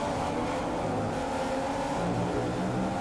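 Formula 1 car in the F1 2015 racing game pulling away at the start of the Brazil race, a continuous loud engine roar with shifting tones over a few seconds, no voices.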